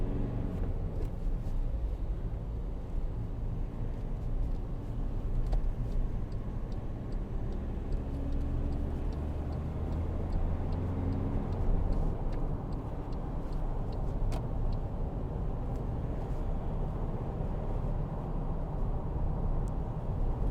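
Cabin of a 2012 Volkswagen Amarok 2.0 BiTDI pickup on the move: a steady low diesel rumble and road noise throughout, with a faint regular ticking like an indicator over it; no talking.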